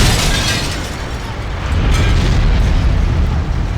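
Bomb explosion in the Mafia video game, a loud, close, sustained roaring blast with deep rumbling low end and steady crackling noise throughout.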